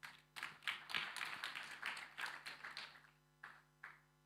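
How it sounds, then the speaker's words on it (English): Sparse applause from a small audience at an African engineering conference, a handful of distinct claps in uneven rhythm at moderate distance, thinning out with gaps toward the end. "She deserves a round of applause"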